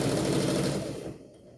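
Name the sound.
sewing machine stitching bias tape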